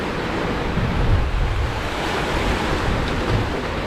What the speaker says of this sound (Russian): Ветер гуляет 40 градусов, эти дожди атакующие.